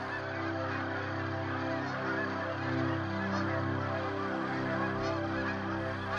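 Migrating waterfowl, geese among them, honk on a California ranch pond in the San Joaquin Valley. A dense, continuous chorus of many overlapping calls fills the air at a steady level, with no voices.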